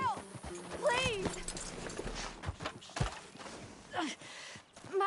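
A horse's hooves clip-clop at moderate distance beneath a man's speech and a woman's urgent pleading.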